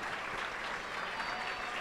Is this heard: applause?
yes